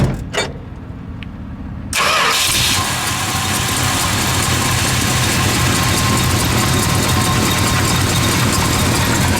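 A 1971 Plymouth Cuda with a 383 V8 cranks with a few brief turns, then catches and fires, and settles into a loud, steady, rumbling idle that carries on alone.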